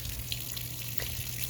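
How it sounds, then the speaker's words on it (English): Water running steadily from a tap on a back porch, a soft continuous hiss and splash close by with no voices over it. "he heard the water running"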